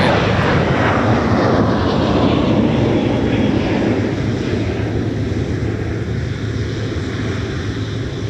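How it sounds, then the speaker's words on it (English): A Sun Country Airlines Boeing 737-800 jet departing MSP airport, a loud continuous roar of engines that holds steady and slowly eases, heard up close with broad rushing noise throughout. "Sun Country Airlines departing for Tampa, Florida with the 737-800"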